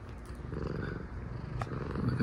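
Close, continuous low purring from a cat, a steady rhythmic rumble with a brief rustle partway through.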